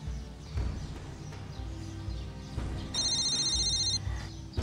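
A mobile phone rings indoors, a short bright electronic ringtone burst of about a second over a low dramatic music bed, with no one speaking.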